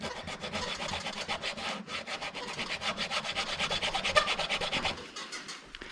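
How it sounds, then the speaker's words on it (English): Bike parts are sanded by hand with rapid back-and-forth rasping strokes, close and steady for about five seconds before stopping, with no voices. "we came in here and we're going to sand these"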